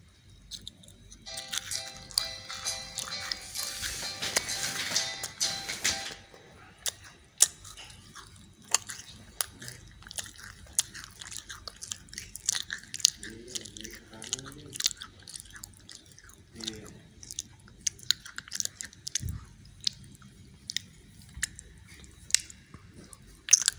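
Crunchy, squishy chewing of colorful macarons, close and intermittent with bites and smacks, preceded by a burst of rustling packaging.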